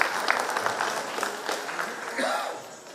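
An audience at a bhajan group's 500th performance and opening ceremony gives a round of scattered applause. The clapping is moderate and fairly distant, and a voice speaks faintly over it.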